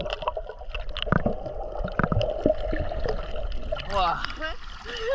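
People splashing into clear seawater at a beach in Croatia, with water sloshing and splashes close by while voices talk and shout over it.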